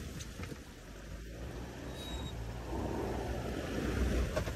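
A Toyota Hilux stuck off-road with its engine droning and building steadily in a broad low rumble, mixed with wheel and ground noise, fairly close with no clear speech.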